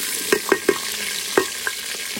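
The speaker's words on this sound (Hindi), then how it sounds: "प्याज फ्राई हो चुके हैं।" A pan of frying onions for a salan sizzles continuously at close range, with several distinct clacks of a spoon stirring, spaced irregularly, and no voices.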